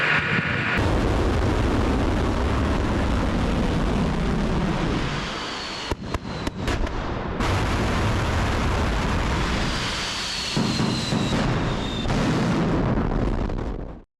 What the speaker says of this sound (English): An intercontinental ballistic missile was test-fired, plus nuclear bombers fired cruise missiles.